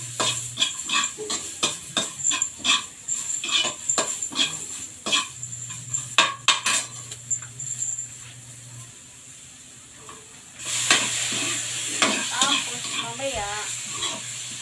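Ginger, garlic and onion stir-fried in a pan for sotanghon, with repeated clanking scrapes of a utensil against the pan and soft sizzling that gets louder and hissier near the end.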